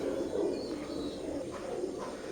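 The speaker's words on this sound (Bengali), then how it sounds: "স্ক্রিনে এখন যে কবুতর জোড়া দেখতে পাচ্ছেন এটা সেমি অ্যাডাল্ট এক জোড়া কবুতর কেটিএমের" A semi-adult pair of KTM Teddy pigeons cooing softly, a low steady murmur of coos close by, with no one speaking.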